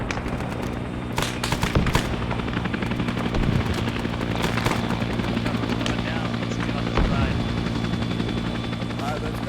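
Helicopter flies overhead in a military game, a steady loud rotor drone throughout, with sharp gunfire bursts cutting in and people talking over it.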